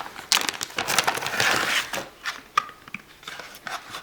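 A small cardboard piece from a Creality CR10s 3D printer box is torn open, giving crisp crunching and crinkling bursts, close and fairly loud, tapering into scattered rustles near the end.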